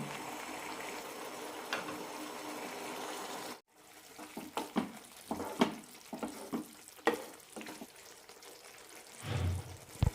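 Ivy gourd curry pieces cook in a pan on a low flame, first with a steady soft sizzle, then with a spoon stirring and scraping in scattered clatters and bubbling, and no talk.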